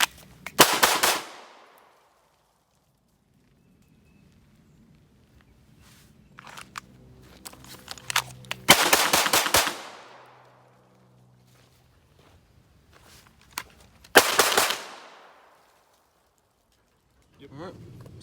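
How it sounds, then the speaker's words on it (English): Pistol shots fired outdoors while testing a holster, heard as a few sharp, loud bursts separated by long quiet gaps, with faint movement sounds between them. "We'll shoot a couple rounds with this thing and call it a day."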